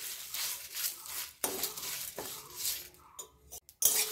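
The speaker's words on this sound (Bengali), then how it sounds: "দিয়ে দেব গোটা ধনে, এবার সুন্দর করে এগুলোকে একসাথে ভেজে নেব।" Five-spice and whole coriander seeds dry-roast in a pan, heard as a close hiss of frying with repeated clinks and scrapes of a utensil against the metal, turning to sparse clatter at the end.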